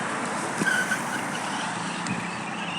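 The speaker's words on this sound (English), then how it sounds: "It's very hectic, lot of cars." Steady road noise of heavy car traffic on a busy street in Namibia, with vehicles passing close by in a continuous roar and a brief tyre squeal partway through, no voices.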